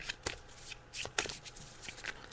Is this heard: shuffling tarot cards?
yes